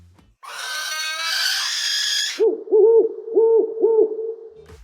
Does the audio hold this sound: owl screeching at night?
yes